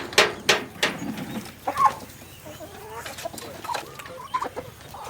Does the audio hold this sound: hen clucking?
yes